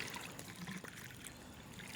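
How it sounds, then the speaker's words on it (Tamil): Water poured generously into the pot of a freshly repotted rose plant, a steady close trickle and splash lasting throughout with no talk over it. "இப்போ இந்த மாதிரி நல்லா தாராளமாக தண்ணியை ஊற்றி விட்டுடணுங்க"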